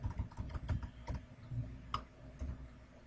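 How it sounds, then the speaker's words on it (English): Someone types a message on a computer keyboard during a Joomla 1.5 mass-mail tutorial, producing scattered soft key clicks and taps in an irregular rhythm, close and fairly quiet, with no talking. "And then you want to type in a message."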